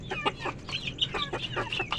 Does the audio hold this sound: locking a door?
no